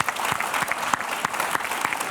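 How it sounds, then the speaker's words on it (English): A lecture audience at a business school event applauds a guest speaker, a dense, steady clapping from a sizeable crowd that holds evenly throughout with no talk over it. "a big round of applause for Laurent."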